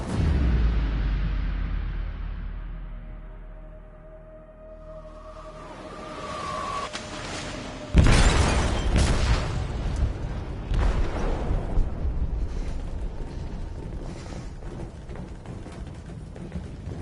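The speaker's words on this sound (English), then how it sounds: "They detonated an explosive in the hold." An explosive detonates in a ship's hold in Detroit: Become Human, a deep booming blast followed by sustained rumbling, crashing and debris noise, loud and close, after a low droning build-up.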